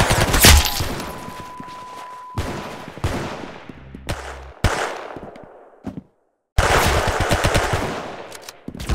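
In the video game Arsenal, gunfire comes in loud, close bursts of rapid automatic shots separated by short pauses, with one moment of near silence partway through.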